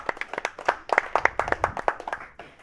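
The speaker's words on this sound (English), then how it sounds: "Let's get him a round of applause here" A small group claps for Mike during a live NBA Draft 2021 watch stream, a loose burst of individual sharp hand claps close by, irregular and uneven, fading near the end.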